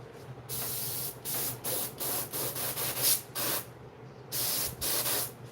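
Short, close bursts of hissing spray from an airbrush, stopping and starting in an uneven rhythm.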